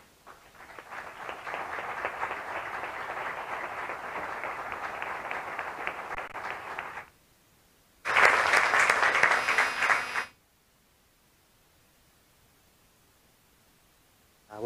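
An audience at a short-film presentation applauds as César comes on stage: steady clapping for about seven seconds, a brief pause, then a louder, brighter burst that stops abruptly.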